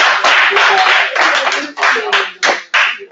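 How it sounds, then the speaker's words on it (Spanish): An audience at a game jam round-table session claps in a loose, uneven burst of applause, close and fairly loud, fading into separate claps near the end. "vosotros aplauso para él"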